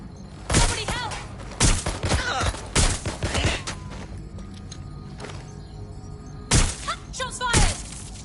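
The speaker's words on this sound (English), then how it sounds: "Shots fired!" Gunfire in Watch Dogs Legion: loud, sharp bursts of shots in several clusters, close by, with crackling echoes between them and brief quiet gaps in between.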